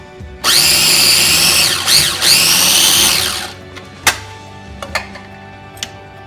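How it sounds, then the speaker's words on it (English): A food processor chops basil, garlic and cheese for pesto, its motor whining loud and close in a long run with a brief dip, then stopping, followed by a few light clicks and knocks. "Continuing to chop up this basil and garlic and cheese."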